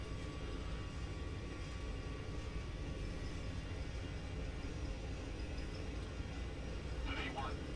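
Airliner engines at takeoff thrust in a flight simulator game on a night departure from Kai Tak, a steady broadband roar throughout, even and constant.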